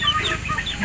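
Hens cluck in a coop, giving a brief burst of close, busy clucking and fowl chatter with no speech over it.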